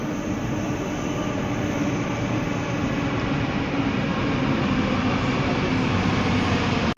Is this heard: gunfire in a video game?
no